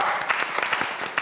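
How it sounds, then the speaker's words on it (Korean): Audience clapping at a K-pop fan meet-and-greet, a short burst of quick, close claps lasting about a second. "자, 박수!"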